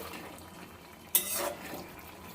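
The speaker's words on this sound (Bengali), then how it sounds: "এবার একটু ভালো করে নাড়িয়ে দেব" A spoon scrapes and stirs through bata fish curry in a pan, a single sharp clatter followed by a soft wet swirl, close but quiet, with no voices.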